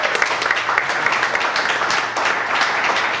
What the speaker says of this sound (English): if everybody can give a round of applause for Matt, I would greatly appreciate it.